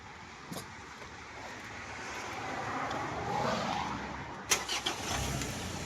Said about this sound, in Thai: มาฟังเสียงเครื่องกันเลย